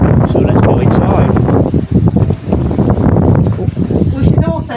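Strong wind buffets the microphone at Talland Bay beach, a loud gusting roar with uneven surges and brief lulls, and no voices over it.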